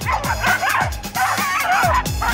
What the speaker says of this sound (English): he just likes barking at everything all the time